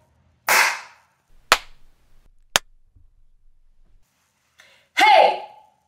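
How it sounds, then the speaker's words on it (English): Three sharp, separate hand claps ring out inside a closet converted into a voice-over booth, each one dry and quickly damped, followed by a short vocal exhale or gasp. "Quick test to see what a clap sounds like."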